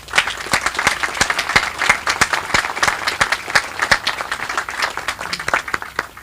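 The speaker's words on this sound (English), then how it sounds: "Please give them a round of applause" Audience clapping at a crime lab dedication ceremony, with sharp individual claps standing out above a steady round of applause lasting several seconds.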